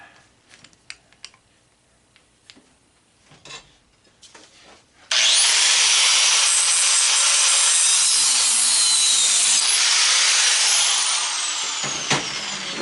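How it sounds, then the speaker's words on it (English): A saw cuts steadily through a brass crimp nut on a propane grill gas line, a loud, continuous rasping grind that runs unbroken for the second half after scattered handling clicks. "if it's brass, you don't have to cut all the way through the nut"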